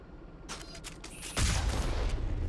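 Gunfire in the Mass Effect 1 video game: a run of sharp shots, then a heavy boom at about 1.4 seconds that leaves a loud, sustained low rumble to the end.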